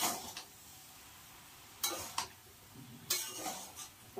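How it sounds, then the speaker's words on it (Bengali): A metal spatula stirring and scraping plum chutney in a pot, with a few scattered clinks and scrapes against the pot over a quiet background, faint and close. "আর এই যে খুন্তিটা দিয়ে আমি একটু ঘুটে দেবো"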